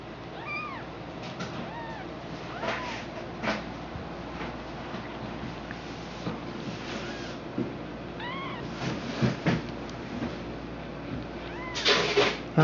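A litter of five-day-old kittens mews with thin, high, rising cries, repeating irregularly close by over a soft, constant background hum.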